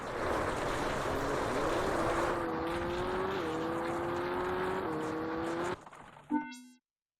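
A rally car engine in Richard Burns Rally on the Xbox climbs and holds a droning, revving tone over gravelly road noise, shifts pitch a few times, then cuts out and ends with a short electronic chime.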